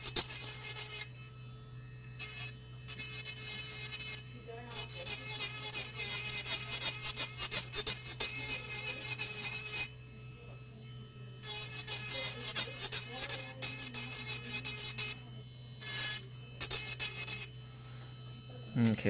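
An electric nail drill bit files and smooths a fingernail during nail art work, a steady buzzing rasp in bursts that stop and start, with a low constant hum underneath and no speech.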